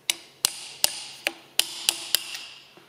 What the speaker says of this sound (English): I've got another screwdriver that I can bash